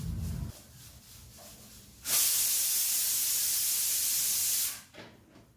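A pressure cooker of dal and rice releases a loud, steady steam hiss that rushes in abruptly and holds for about two and a half seconds before cutting off, with quieter kitchen background before and after.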